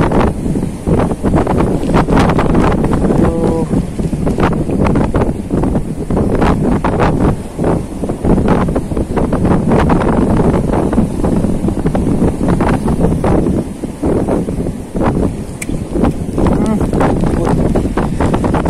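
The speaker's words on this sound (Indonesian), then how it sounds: "kita sudah kali ini anginnya kencang sekali, agak ngeri-ngeri aja" Very strong wind roars and buffets the microphone without a break while fishing from a cliff top, with voices talking over the gusts throughout.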